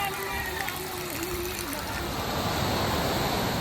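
A small waterfall, the baby falls near Baler, makes a continuous loud rushing roar of water. A voice speaks over it at the start and the flow grows slightly denser toward the end.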